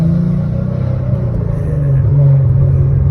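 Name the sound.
Dodge Demon car engine revving while driving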